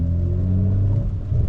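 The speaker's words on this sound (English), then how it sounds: "it still sounds good with a straight pipe and just a down pipe." A 700 HP BMW M340i with a straight pipe exhaust, down pipe and upgraded turbo revs its engine, a loud, deep droning tone that holds steady, then wavers and drops slightly near the end.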